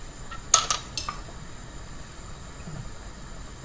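Onion and garlic being stirred in a pan for pasta sauce, a few quick metallic clinks of a spoon against the pan early on, then a quiet low sizzle.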